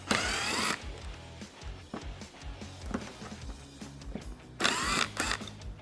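A power drill removes screws from the factory netting on a Can-Am Defender side-by-side, giving two loud whirring bursts at the start and end, with knocks and clattering handling sounds in between.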